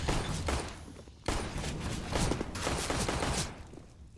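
Grenades going off in an esports shooter match, a run of muffled bursts and rattling gunfire-like pops at moderate distance, fairly faint and continuous with a brief lull.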